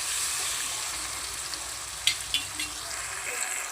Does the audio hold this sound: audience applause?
no